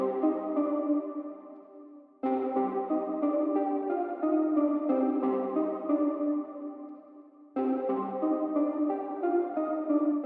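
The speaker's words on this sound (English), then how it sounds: "I started off with this real toy piano preset." A Baby Audio BA-1 synth playing a toy piano preset with reduced reverb, bright plinky chords struck in three phrases separated by short pauses, each decaying gradually, clean and alone.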